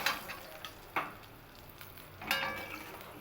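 Vegetables sizzle in hot oil in a pan, a soft continuous crackle broken by a few sharper bursts as pieces are stirred or turned, fairly quiet and with no talk.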